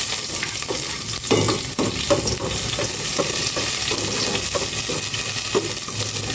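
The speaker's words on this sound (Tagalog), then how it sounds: "Igisa ko na itong bawang." Garlic sautéing in hot oil in a pot gives a loud, continuous sizzle layered with rapid, repeated spatula scrapes and knocks, close up and without speech.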